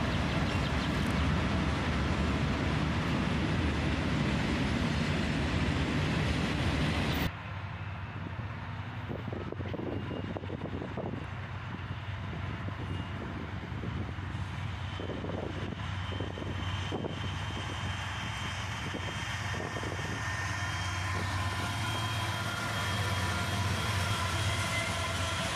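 A Union Pacific locomotive leads a Norfolk Southern freight train across a bridge, a steady low engine rumble with the rolling clatter of wagons that continues throughout, preceded by a loud burst of wind noise at the start.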